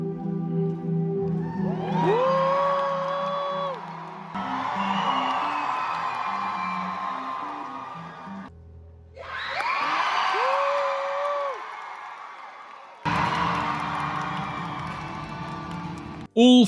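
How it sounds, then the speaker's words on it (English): A large audience whoops and cheers in four separate loud bursts for the Jujutsu Kaisen character Yuta, each swell of yelling and screaming sustained for several seconds before cutting off. "All 4 Yuta cheers added up to a total cheer duration of 15 seconds"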